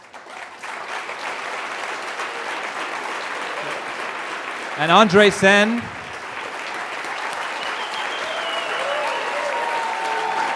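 Audience applause thanking the debaters after a homeopathy debate: sustained clapping from a large crowd runs throughout, briefly under a voice midway, then continues on and swells slightly near the end.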